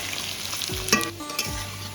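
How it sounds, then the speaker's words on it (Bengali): Cut potatoes fry in hot oil in a home kitchen, a steady dense sizzle running throughout, with a couple of brief stirring clatters near the middle. "আগে আলুটা আমি ভেজে তুলে নেব"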